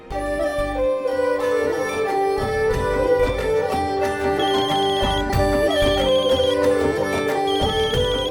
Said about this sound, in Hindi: पुरोहित जी का फोन है